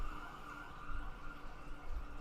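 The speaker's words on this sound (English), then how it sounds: "you're probably hearing some loud sirens" A siren wails faintly from a nearby major street, its pitch sliding up and down beneath a steady hum of traffic.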